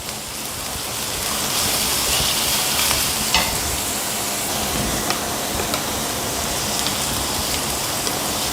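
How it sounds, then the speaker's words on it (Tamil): Beans, capsicum, cabbage and chopped green chilli sauté in a hot pan for vegetable fried rice, giving a steady, close sizzle with occasional stirring scrapes throughout, no voices. "இது எல்லாத்தையும் நல்லா வதக்கிக்கோங்க."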